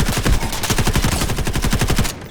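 Rapid automatic gunfire in the Delta Force shooter game, loud and close, a steady burst of rounds for about two seconds with no talk.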